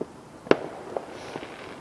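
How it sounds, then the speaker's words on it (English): Fireworks bursting over a park at night during a Fourth of July celebration, one sharp crack followed by a few fainter distant pops against a low background murmur. "There's just fireworks."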